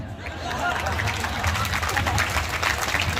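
A dense wash of audience clapping at a Hindi literary gathering, steady and fairly loud across the whole stretch, with crowd murmur and a voice faintly mixed in underneath.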